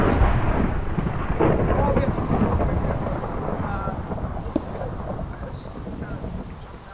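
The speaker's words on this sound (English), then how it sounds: "Okay, it's a hailstorm now." Stormy weather from a Minecraft-style survival game, hail and thunder rolling with a continuous broadband roar of rain and wind and a low rumble throughout, and a voice speaking over it.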